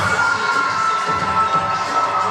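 A crowd at a Right Coast Pro Wrestling event in Delaware cheers for a competitor, a steady wash of shouting and cheering voices that holds at a constant level throughout.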